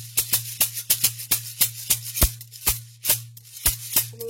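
A shaker plays a rhythm break, with a dozen or so crisp, close shakes in a syncopated pattern over a steady low hum.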